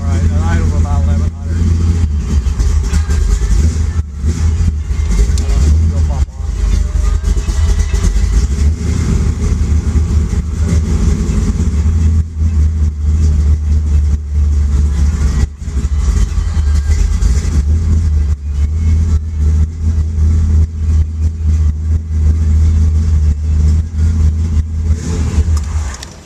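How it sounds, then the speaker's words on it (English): A 1974 pro-street Chevy Nova engine idles at a lumpy, radical lope around 1100 rpm, a loud, close rumble that holds steady throughout while someone talks over it. "Once it warms up and idles all right. And idles about 1100."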